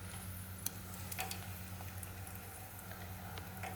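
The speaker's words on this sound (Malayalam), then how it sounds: "നമുക്ക് ഓരോ റിങ്സും ഇതിനകത്തിട്ട് ഫ്രൈ ചെയ്തെടുക്കാം." Potato rings deep-frying in hot oil give a steady close sizzle with faint bubbling and a few small clicks of stirring, alone without talk.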